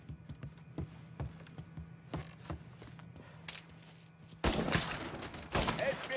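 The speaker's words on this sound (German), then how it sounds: "wir haben Schüsse gehört" Gunfire in the Mafia 3 PC video game rings out as scattered shots, then a louder burst of rapid fire near the end, with faint German-speaking voices in the background.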